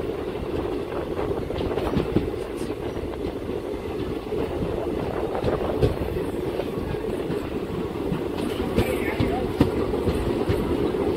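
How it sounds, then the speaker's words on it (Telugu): Train rolling into Madanapalli Road station, a steady rumble with rail clatter and scattered clicks and thumps running the whole time, fairly close and continuous, with voices faintly mixed in. "మదనపల్లి రోడ్డుకి అయితే వచ్చేసింది ట్రైన్"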